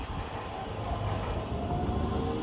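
Cairo metro train at Faisal station, a steady low rumble and hum of the carriage, continuous and fairly loud with no distinct voices.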